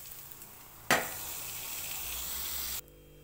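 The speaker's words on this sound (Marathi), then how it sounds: "5 मिनटं असं शिजून दिले की तेल पण सुटतं आणि मसाला कांदा पण सगळा आणि फ्राय होऊन जातो" Moth bean dal and chopped onion with spices sizzle in hot oil, a sudden loud hiss starting a steady close frying crackle that runs for about two seconds, then cuts off abruptly to near silence, with no talking.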